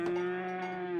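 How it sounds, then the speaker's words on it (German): A cow in the village-building game Farthest Frontier gives one sustained, steady low moo lasting about a second, clear and alone. "Ah, da ist die erste Kuh."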